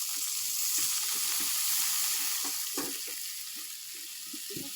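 Ground masala spice paste fries in a pan, a steady close sizzle and crackle that carries on without pause as a splash of water goes in, with no talk over it.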